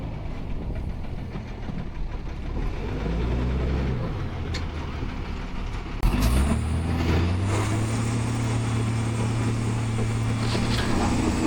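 A truck hauling chopped crop at a silage pit runs with a steady diesel drone, then shifts to a louder, rising mechanical hum as the load is dumped, continuous and close with no talk.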